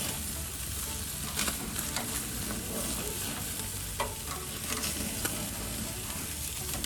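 Chicken thighs sizzling on Oklahoma Joe smoker grates as they are turned, a steady close frying hiss with a few scraping clicks from the flipping.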